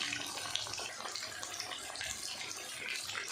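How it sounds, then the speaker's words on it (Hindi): Pieces of fish frying in hot oil over high heat make a steady, dense sizzle that stays even throughout, with no voices. "तेज़ आंच पे इसको फ्राई करते हैं।"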